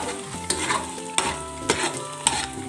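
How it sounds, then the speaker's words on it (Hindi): Flour roasting in homemade desi ghee in a pan, stirred with repeated scraping strokes about every half second to second, under a steady soft sizzle, close and clear with no talk. "तो अच्छे से मिक्स करने के बाद इसको भुने जब तक ये ब्राउन ना हो"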